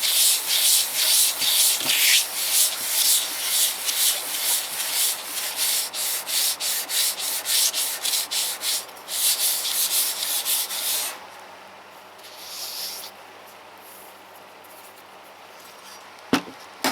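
A small engine cylinder head is lapped flat by hand on fine sandpaper, making steady, rhythmic back-and-forth scraping strokes close up for about eleven seconds before the rubbing stops and only faint handling sounds remain.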